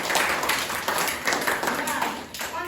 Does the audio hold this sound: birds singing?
no